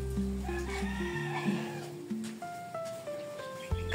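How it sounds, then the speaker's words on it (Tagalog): Goats on a farm, several bleats and calls overlapping in a lively outdoor scene, fairly close, with varied pitches rising and falling over continuous background noise. "sinuga na po yata ni Kuya Alex yung kambing."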